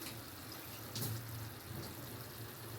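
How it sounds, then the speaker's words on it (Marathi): Small splash of water poured into a pot while making sesame-jaggery tilgul laddoos at home, a brief soft trickle in a quiet kitchen, close and low, with no talking. "थोडासा थोडंसं पाणी टाकणार जास्त नाही थोडंसं"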